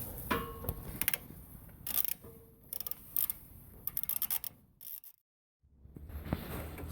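A long extension with a T45 bit turns a bolt out of a Skoda Superb 3 bumper, giving close, irregular ratcheting clicks in short bursts, then a brief silence and a low hum.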